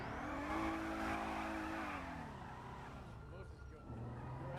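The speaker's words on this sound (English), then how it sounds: "Get in my car and then we'll just like go around and listen to the traffic." Car traffic in GTA on the NoPixel roleplay server: a steady engine drone with tonal, tire-squeal-like whines that shift in pitch as vehicles move, loud and continuous throughout.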